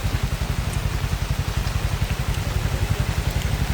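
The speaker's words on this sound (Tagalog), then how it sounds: "Grabe kaayo ang ulan." Heavy rain pours down during Typhoon Basyang. A steady, dense hiss of rainfall is layered over a rapid, rhythmic low thumping, with no one speaking.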